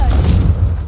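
Confringo fire spell exploding in Hogwarts Legacy, a short heavy low-end blast, loud and close, lasting under a second.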